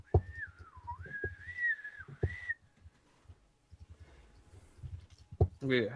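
A person imitates a low whistle with a voice, a wavering tone that dips and rises for about two seconds, followed by soft clicks, breaths and quiet vocal sounds, close and fairly quiet.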